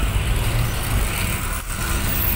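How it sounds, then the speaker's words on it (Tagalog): Road traffic rumbles in front of Santa Lucia in Pasig, a steady mix of car and truck engines and tire noise passing close by, with no one speaking. "Medyo traffic na rito sa harapan ng Santa Lucia"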